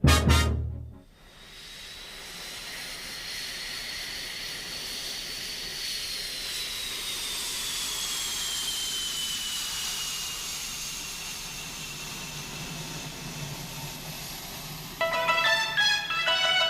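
FA-18 Hornet strike fighter jet engine: a loud, steady roaring hiss with a falling whine, building and then easing over many seconds before a burst of rapid crackling near the end.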